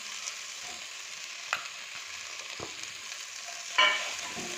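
Chopped green chilies sizzle in a pan with mutton fat and liver, a steady close frying hiss broken by a few short clinks and stirring scrapes, one louder clatter near the end.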